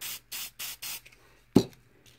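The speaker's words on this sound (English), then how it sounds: "you can spray directly on it, and you can do different colors" Four short, even hissing bursts of spray paint from an aerosol can, then a sharper tap-like hit and a faint trailing puff, close and loud with no talk.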